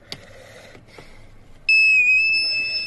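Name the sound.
transmission reset tool beeping on VW Polo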